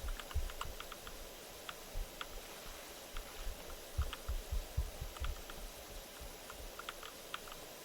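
Keyboard typing while playing Powerwash Simulator, a steady patter of light clicks in small clusters, with soft low thumps of key presses underneath, fairly close and moderately quiet.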